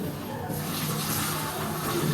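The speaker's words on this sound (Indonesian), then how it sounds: "kita angkat minyaknya dan kita siramkan ke dalam mangkuk yang sudah kita siapkan" Hot boiling oil poured over sambal matah ingredients in a prepared bowl, a steady loud sizzling hiss lasting the whole moment.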